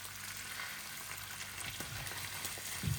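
A seabass fillet in butter in a pan with the heat just turned off gives a steady, soft hiss of frying, with a few low bumps and clatters near the end.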